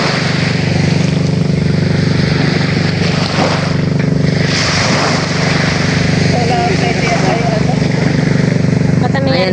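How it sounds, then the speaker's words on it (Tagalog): A motor boat engine drones continuously near the water, its propeller churn steady and loud throughout, while people talk over it. "naririnig na po namin yung tunog ng bangka ni Tito Ninyo."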